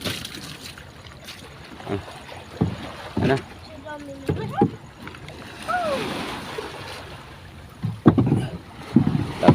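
A small fishing boat moves on the water with splashes and bumps, wind buffeting the microphone, and people talking intermittently nearby.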